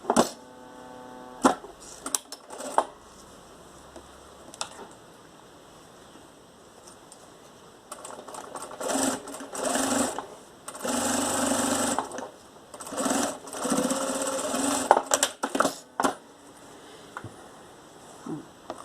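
A sewing machine runs in several bursts as it topstitches a seam on fabric for a small jewelry organizer, its whirring motor steady over a low mains hum, with pauses and handling between runs.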